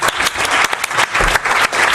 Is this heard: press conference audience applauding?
yes